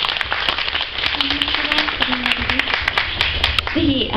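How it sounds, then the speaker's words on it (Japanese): Film festival audience clapping steadily, with crisp individual claps standing out in the crowd's applause while a voice speaks faintly underneath. "どうぞ大きな拍手をお願いいたします"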